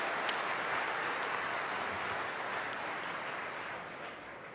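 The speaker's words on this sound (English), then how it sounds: "Let's give them a round of applause" Audience applause at a DEF CON hacking conference talk on heavy trucks, a steady wash of many hands clapping together at a fairly faint, distant level.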